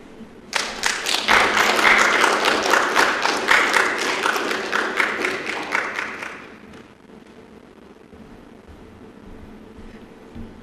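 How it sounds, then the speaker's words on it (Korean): A small church congregation at a Wednesday service applauds to welcome a deacon forward, a loud burst of clapping lasting about six seconds before it fades into quiet room tone. "큰 환영의 박수 한번 부탁드리겠습니다"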